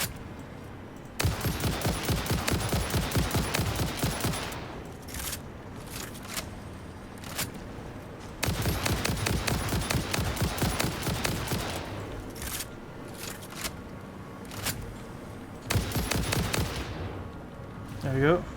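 Rapid bursts of automatic gunfire in the video game Satisfactory, several long rattling volleys separated by short pauses, loud and close, with a person talking intermittently between them.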